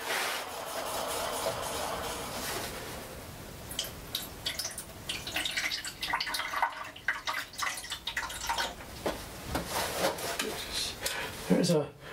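Water poured into the wheel trough of a Parkside bench grinder, a continuous splashing trickle with scattered knocks and rubbing, fairly quiet and close, with a few bumps near the end.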